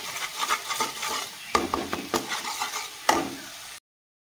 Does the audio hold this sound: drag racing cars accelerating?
no